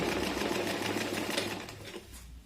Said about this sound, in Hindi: इस तरह से सिलाई हो रही है उस पर